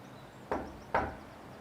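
Two firm knocks land on a front door, spaced under half a second apart, close and distinct against a quiet room.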